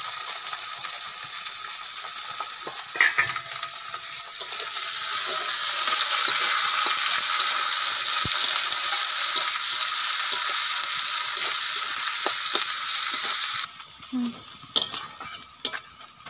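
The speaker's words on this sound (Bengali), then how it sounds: "ফোড়নে দিয়ে দেব গোটা গরম মশলা আর জিরে আর একটা তেজপাতা। আর দিয়ে দেব কেটে রাখা পেঁয়াজ।" Sliced onions frying in oil with whole garam masala, cumin and a bay leaf for a duck curry: a loud, steady hissing sizzle that swells after a few seconds, then cuts off, leaving a few clanks and stirring knocks.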